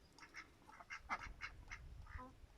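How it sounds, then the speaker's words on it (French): Young ducklings quacking softly in the distance at a mountain chalet, a scattering of short calls over faint outdoor background. "les petits canards là-bas"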